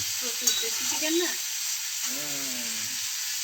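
Food frying in plenty of hot oil gives a steady, close sizzle throughout, with voices talking over it at moments.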